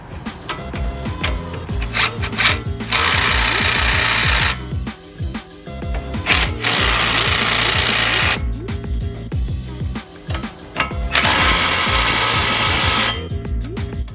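A power tool tightens coilover bolts on a Nissan 350Z, with repeated bursts of whirring and rattling separated by short pauses, loud and close.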